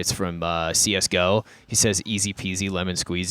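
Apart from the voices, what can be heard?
No distinct noise like a dog, phone or traffic.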